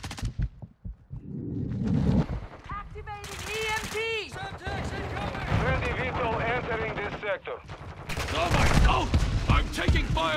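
Gunfire in Call of Duty: Modern Warfare II, bursts of shots and rumbling explosions mixed under constant shouted in-game voices and radio chatter, busy and loud from start to finish.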